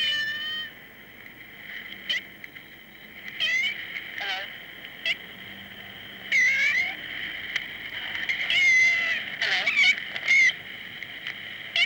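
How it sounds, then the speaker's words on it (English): An old portable tape recording captures a cat meowing in strange, half-human, talk-like tones, with repeated wavering calls against a faint tape hiss. "we came across this cat, and it seemed to talk in half-human tones. He recorded that on his portable tape recorder"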